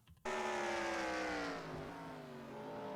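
A race car engine in a racing video game, an oval-track sim at the Milwaukee Mile, revs loud and close, then its pitch sags steadily as the engine gives out and winds down.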